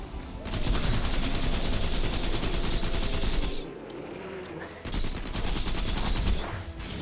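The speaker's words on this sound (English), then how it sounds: "It's shooting a lot of those beams." An enemy in a sci-fi looter shooter game fires beams in rapid, dense bursts, loud and continuous, with a short lull before the barrage resumes.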